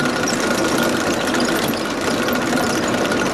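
A Fastrac tractor runs a round baler whose tensioner cog is a little worn, a continuous loud engine drone with rattling machinery, steady and close, no voices.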